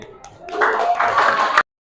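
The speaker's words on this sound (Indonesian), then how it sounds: "Tepuk tangan yang lain." Classroom students clapping during an Arabic lesson, a brief burst of close clapping that rises after a few soft taps and stops abruptly.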